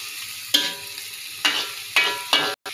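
Onions sizzle in a hot pan, with loud bursts of frying as they are stirred and tossed until wilted, close up and without talk.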